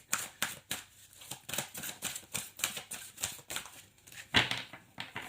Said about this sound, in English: Let's pull out one card from the Wisdom of the Oracle deck.